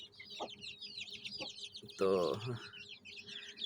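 Home-bred Aseel chicken chicks peep in a constant high chorus of rapid chirps, close by, while someone speaks briefly over them.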